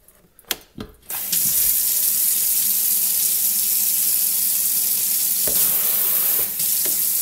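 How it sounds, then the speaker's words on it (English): After a few clicks and knocks, a kitchen tap opens and water gushes steadily into a sink, loud and continuous, with a brief change in flow near the end. "Nice little faucet"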